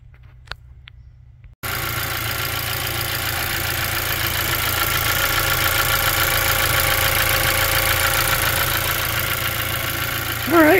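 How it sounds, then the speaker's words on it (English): Engine of a 2017 Chevy Malibu cranks and catches after a quiet moment with a couple of clicks, then settles into a steady, close idle hum with a faint ticking texture, swelling slightly toward the end. "So it's about time to fire it up and look for leaks."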